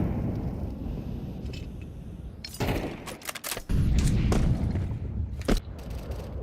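A flashbang grenade goes off in Counter-Strike 2 during a competitive match, a sharp loud bang cutting through background game noise, followed by several quick gunshots and another crack a couple of seconds later.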